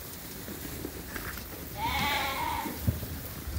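A single faint bleat rises from ewes and lambs penned together, a short wavering call in the middle of quiet barn background noise.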